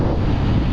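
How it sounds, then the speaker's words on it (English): Strong wind buffeting a microphone on the Creag Meagaidh mountain ridge, a loud, close, continuous roar with no voices. "Really windy, I hope you can hear me."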